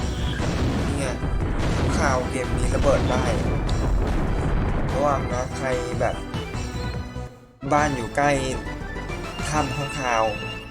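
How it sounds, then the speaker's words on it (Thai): Explosions and booming blasts from the PS1 game Digimon World 2 fill the stretch almost continuously, loud and dense, with a sharp cutout near the middle before the blasts resume, and a voice talks over them. "ระวังมันมันระเบิดบ้านเนี่ย"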